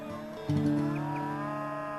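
Cattle low on a working cattle station in the Australian High Country, a single sustained moo rising at the midpoint and holding steady over a continuous background tone, alone without talk.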